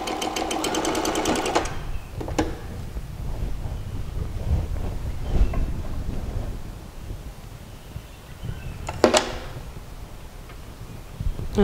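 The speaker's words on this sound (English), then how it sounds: "and continue my stitching" A sewing machine stitches fabric for a short garment in a rapid mechanical whir at the start, then stops, followed by quiet handling and another brief burst of stitching near the end.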